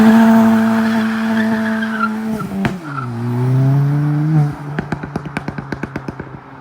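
A stage 2 Ford Fiesta ST running a pops and bangs map revs loudly and drops off, then the exhaust fires a rapid string of about a dozen sharp crackles and bangs.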